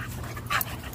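Puppies in rough play, panting close by, with a short sharp yelp-like burst in the middle over a continuous breathy background.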